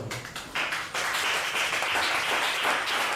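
A church congregation bursts into rhythmic clapping in praise of the Lord, many hands beating together steadily and close, building in loudness after the first second and continuing without speech.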